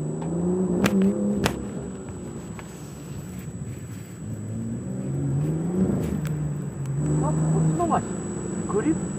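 Car drifting during an impromptu setup and driving-technique session, the engine revving up and down in shifting pitch at moderate distance, with people talking throughout.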